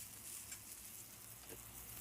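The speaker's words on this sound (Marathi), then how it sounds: "आता मी भाजतीये ना तेलामध्ये" Light green chilies roasting in hot oil for a Maharashtrian thecha, a soft, steady, faint sizzle with gentle crackles, heard close and alone.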